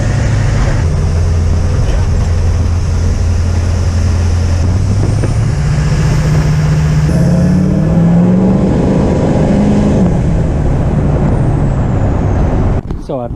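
A car engine runs loudly nearby with a deep rumble that climbs in pitch as it revs, then drops and cuts off near the end, in a car being fitted with Dynamat sound deadening.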